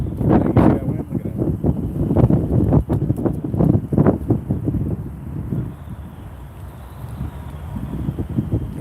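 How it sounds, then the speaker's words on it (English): Strong wind buffets the microphone outdoors during a catfishing outing, gusting loudly and unevenly throughout with rustling and low rumbling roar, easing slightly midway before building again. "Yo, come on with this wind. You see that wind?"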